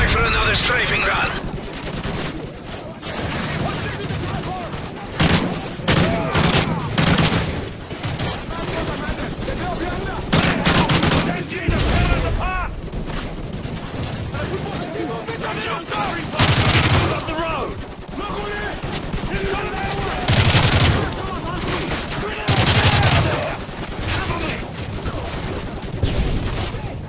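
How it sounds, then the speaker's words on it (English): Dense, loud bursts of automatic gunfire and heavy impacts during a strafing run in the Call of Duty Modern Warfare video game, with rapid volleys coming in waves and voices calling out between them. "Coming back for another strafing run."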